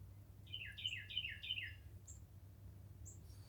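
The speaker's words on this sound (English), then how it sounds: "Birds are doing a beautiful song and dance today." Several quick descending bird chirps repeat in a short burst, then a couple of faint isolated calls follow against a low steady hum.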